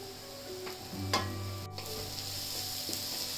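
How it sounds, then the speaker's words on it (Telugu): Vegetables sizzle in a hot pan after salt and black pepper are added, during restaurant-style egg noodle preparation; a steady close frying hiss with a few utensil clinks and stirring scrapes, no talking. "సాల్ట్, బ్లాక్ పెప్పర్ వేసిన తర్వాత కొద్దిగా ఫ్రై అవ్వాలండి ఇవి."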